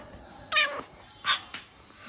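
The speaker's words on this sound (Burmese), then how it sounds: "အာဘာပေးလိုက်တဲ့ကြောင်လေး" A cat gives two short, close meows, the second briefly echoed by a faint squeak, over a quiet room hiss.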